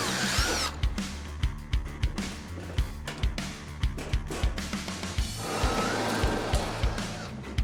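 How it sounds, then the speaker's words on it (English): Clecos are fitted to temporarily hold a custom console panel on a prerunner Ford Ranger build: a string of sharp, quick clicks and snaps rides over a continuous mechanical whir, close and fairly loud. "we are going to temporarily secure it in place with Clecos."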